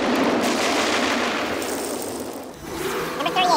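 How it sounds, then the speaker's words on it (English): The shark explodes in a Jaws 3 movie scene as a loud, sustained, roaring burst of noise that fades over a few seconds. "The highlight is an explosion of shark guts."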